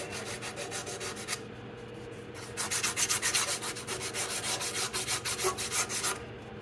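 Crud is scrubbed and scraped off a rear disc brake bracket on a 2005 Jeep Laredo, producing close, rhythmic abrasive rubbing strokes that pause briefly and then resume at a faster, harder pace.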